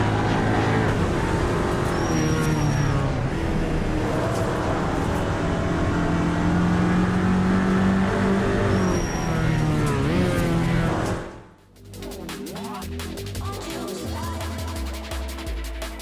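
A Seat Leon TCR touring car mod in Assetto Corsa roars loudly, its engine pitch climbing and falling through gear changes for several seconds before an abrupt cut to a harsher, rattling exterior engine sound.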